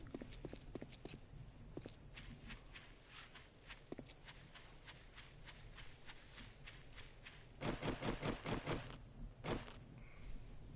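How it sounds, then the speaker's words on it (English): Scuffing footsteps drag across rough ground in the video game 7 Days to Die on PS4, irregular at first, then a faster, louder run of steps near the end. "Quit dragging your feet. I hear you shuffle hustling through the ground there."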